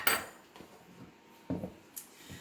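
Cooked food scraped and spooned into a dish, with a few sharp clinks and knocks of utensil against the dish spaced irregularly, close and fairly quiet.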